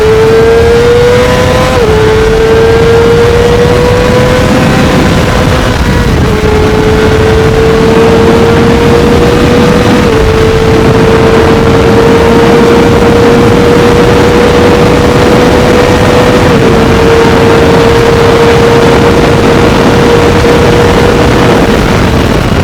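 A Honda CBR600RR motorcycle runs hard along a highway, its high-pitched engine whine loud and sustained, climbing through the revs with brief dips at each gear change, wind roar underneath.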